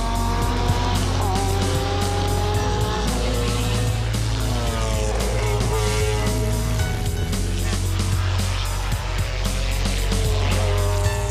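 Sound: McLaren F1 race cars driving warm-up laps

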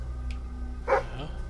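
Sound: dog barking in video game Fable 3

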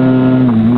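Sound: moped engine revving

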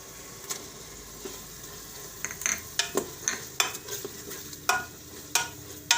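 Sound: tomatoes added to fenugreek frying in oil

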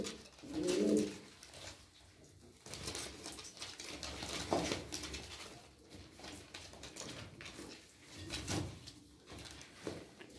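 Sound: tumbler pigeons cooing

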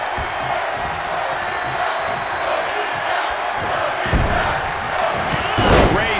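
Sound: cheering arena crowd in WWE 2K22 video game

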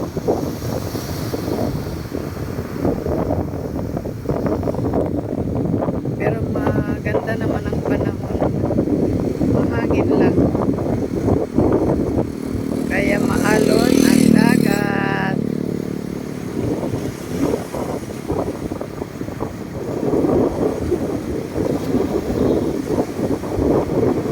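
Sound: strong wind by the sea

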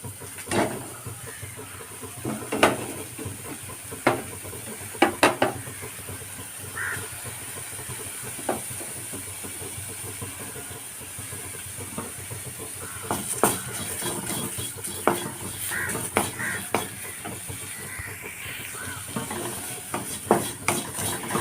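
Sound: dried shrimp frying in a pan

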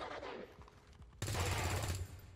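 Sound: gunfire shot in video game XCOM 2

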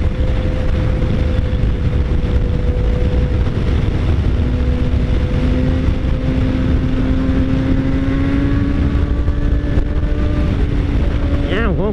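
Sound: motorcycle engine roaring on the road

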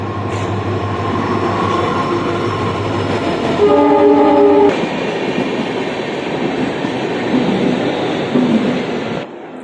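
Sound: train arriving at station with horn

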